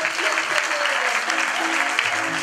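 A church congregation at a seminary service in Germany applauds steadily, a dense, continuous wash of clapping filling the whole moment, with faint voices and some music underneath.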